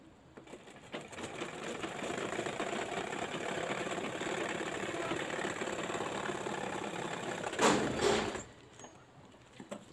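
A sewing machine runs steadily, stitching a shopping bag, a continuous mechanical whirring hum that stops briefly near the end after a louder burst of handling noise.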